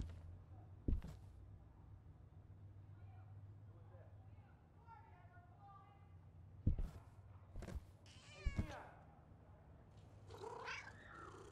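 A cat meows a few times inside the horror game The Demonologist, short harmonic calls in the middle of the clip amid low ambient game hum, with thumps and a person talking around it.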